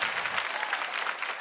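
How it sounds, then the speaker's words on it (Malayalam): Studio audience applause at a comedy show, a dense burst of clapping from many hands that stays loud and even throughout. "നല്ല കൈയടി കൊടുക്കൂ"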